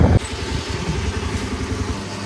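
Motorcycle engine running after a repair, a short thump followed by a steady, close idling putter with low rhythmic pulses and no voices.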